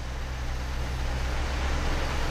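A 1969 Cadillac Fleetwood's engine runs with a steady, loud low rumble, revved gently with the throttle and holding an even pitch throughout with no voices.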